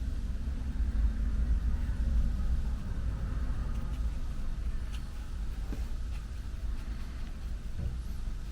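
A loud car passes outside, a steady low rumble that swells and lingers close by for several seconds before easing slightly, with no voices.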